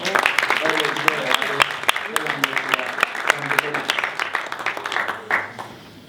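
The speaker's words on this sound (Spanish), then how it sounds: "Un aplauso, por favor." Applause breaks out at a university debate tournament final in Viña del Mar as the team is introduced, steady clapping running for several seconds under continuous talk before fading at the end.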